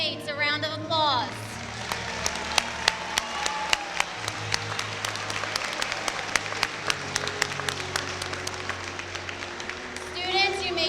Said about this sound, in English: Let's give your classmates a round of applause.